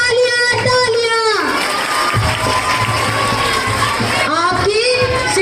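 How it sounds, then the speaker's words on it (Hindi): Children at a school Republic Day program cheer and shout for a leader, loud rising and falling group yells with chatter mixed in, close and lively throughout. "नेताजी के लिए तालियां तालियां"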